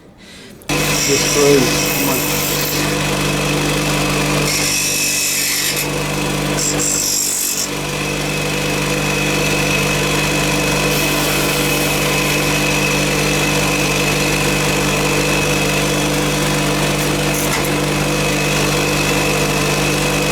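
A power tool grinds off screws on an old Sideshow Superman figure body during a kitbash, running as a steady, loud, continuous whine with a constant engine-like hum for the whole stretch and no pauses.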